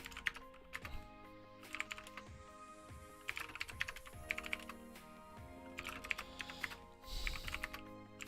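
Typing on a computer keyboard while programming: a quiet, close run of irregular key clicks that comes in bursts, with brief pauses, against a faint background hum.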